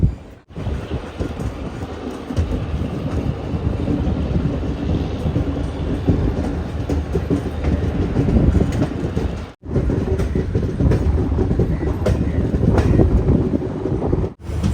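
Garib Rath Express running along a curving track toward Ernakulam Town station, a loud continuous rumble and rattle of the carriages heard from on board, with two brief dropouts.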